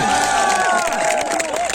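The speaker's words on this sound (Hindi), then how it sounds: "एक बार जोरदार ताली से उनका स्वागत" A crowd at an election rally cheers and claps loudly to welcome Feroz Ahmed Khan, former NSUI president, with raised shouting voices over brief, dense applause.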